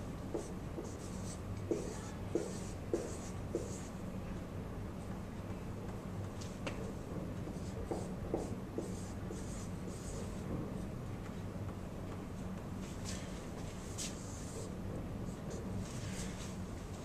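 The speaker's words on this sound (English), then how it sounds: "I'm going to go ahead and write those down now" Numbers are written by hand, with soft, scratchy pen or pencil strokes coming in short bursts over a low, steady background hum.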